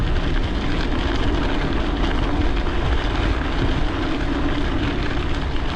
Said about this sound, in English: Buddy's on the dirt bike.